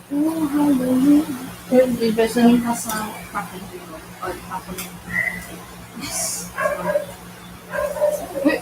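Several dogs barking and yipping outside, repeated sharp barks in irregular bursts, some near and some farther off, mixed with someone talking.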